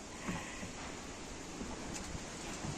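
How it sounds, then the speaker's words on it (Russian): Strong autumn wind blows steadily outdoors near a chicken yard as a faint, continuous rushing roar with occasional gusty bumps and no voices. "Сегодня тоже, в общем, ветер очень сильный."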